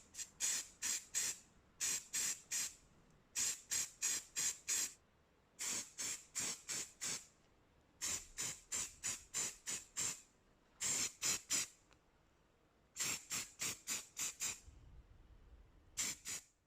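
Short bursts of primer spray hiss from an aerosol onto Yamaha R1 5JJ motorcycle parts, fired in quick groups of three to five with pauses between, close and fairly loud against a quiet background.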